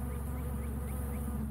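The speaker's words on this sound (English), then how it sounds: "Just watch those bees." Bees buzz in a dense, steady drone close by, a low humming swarm that continues evenly without a break.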